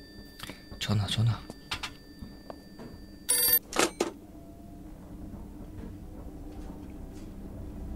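A telephone rings inside a video game demo, a short burst of ringing bell tones alongside clicks and thumps, with a voice talking over part of it.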